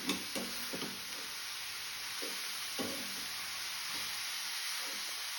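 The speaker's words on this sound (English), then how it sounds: "Again mix it." Vegetable momo filling with added salt is stirred in a hot pan, a constant sizzling hiss broken by repeated short scraping strokes of the spoon, close and moderately loud.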